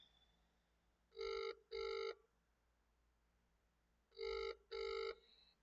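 A telephone rings out twice in two bursts, each a pair of bright electronic trills, with a quiet pause between, heard alone while calling Charlie.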